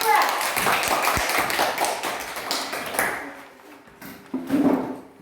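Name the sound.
classroom applause for a discussion group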